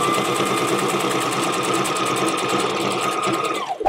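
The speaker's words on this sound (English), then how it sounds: "we're gonna take it in just a hair, and then we're gonna go ahead and sew it down" A sewing machine runs steadily, stitching down a seam on a skirt made from a trench coat, its fast even needle rhythm close and loud before it slows and stops at the end.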